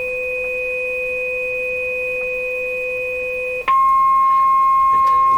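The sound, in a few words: two-tone audio test signal from B&K 1040 CB ServiceMaster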